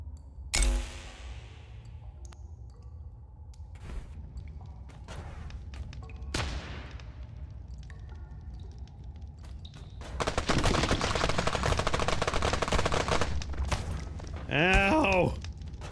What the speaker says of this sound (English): This is how we're making a gun for digging.